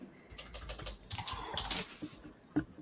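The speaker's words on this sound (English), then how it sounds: "I just had to type something" Quick bursts of computer keyboard typing, a short run of uneven keystrokes with a couple of sharper taps near the end, close and fairly quiet in a room.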